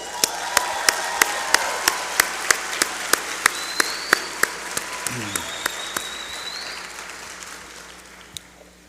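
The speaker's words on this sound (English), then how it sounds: "You are FAMU College of Law graduates and should give yourselves a round of applause" FAMU College of Law graduates applauding themselves at a hooding ceremony, broad sustained clapping with sharp regular thumps cutting through it and voices faintly underneath.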